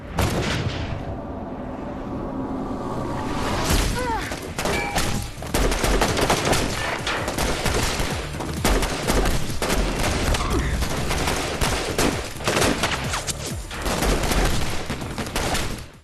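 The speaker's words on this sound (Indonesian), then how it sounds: "melepaskan tembakan menggunakan senapan" Dense, sustained bursts of rifle gunfire with booming shots, loud and continuous over a rumbling background, like an intense film firefight.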